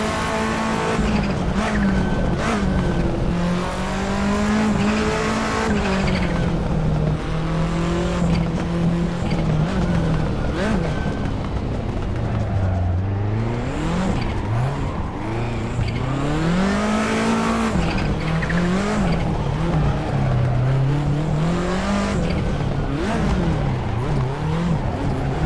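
A Citroen drift car in the racing game Assetto Corsa Competizione, driven on a hill, roars loudly throughout as its engine rises and falls in revs under continuous screeching tire squeal, with no talk.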